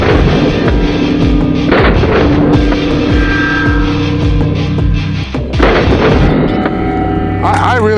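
Repeated AK-47 rifle shots boom out loud and close, with sharp reports spaced irregularly across the clip and a heavier cluster near the end.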